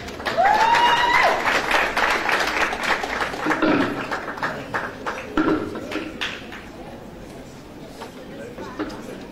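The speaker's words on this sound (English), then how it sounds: "with a round of applause" A round of applause from the audience at a school regional competition ceremony as an official is introduced, clapping swelling then thinning out, mixed with chatter and a brief whistle-like tone near the start.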